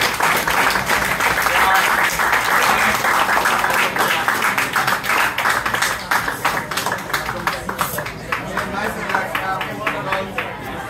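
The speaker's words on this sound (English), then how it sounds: "We clap for him, not Tim." Spectators at a Kaohsiung inter-club BJJ gi match clap and cheer in a busy gym, the applause thinning into scattered claps as voices talk over it.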